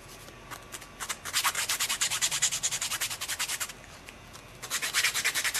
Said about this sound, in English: see how the sanding stick gets around all those curves so easy